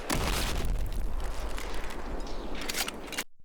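A heavily compressed explosion effect gives a boom with the bass quickly thinning, leaving falling debris and a rolling echo held up loud and even before an abrupt cutoff.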